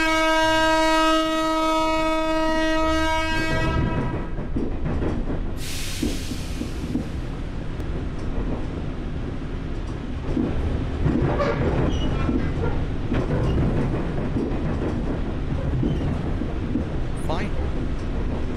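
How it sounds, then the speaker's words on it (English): A train in the horror game Homeless starts with a long horn blast, then rumbles past continuously with heavy, close, rolling low noise and a brief burst of hiss, while a voice speaks briefly over it. "You waiting for the train?"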